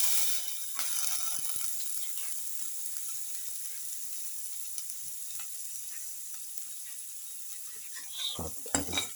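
Garlic sautéing in a pan for a pepper lemon chicken stir fry, a faint steady hiss with light scraping and a few clinks of stirring near the end.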